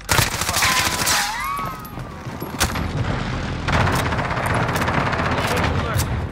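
Gunfire in the Zombie Royale video game: a rapid burst of shots up front, then a brief lull and more bursts of fire, with players talking over the shooting.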